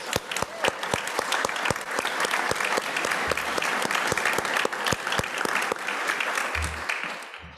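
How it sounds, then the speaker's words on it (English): A graduation audience at the 2022 Cres program ceremony applauds, with dense, steady clapping running throughout and sharp individual claps popping out above the crowd. "Let's give everyone a round of applause."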